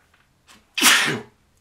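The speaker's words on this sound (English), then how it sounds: "I'm going to sneeze in a second." A single loud human sneeze bursts out up close, preceded by a short faint intake of breath, then quiet.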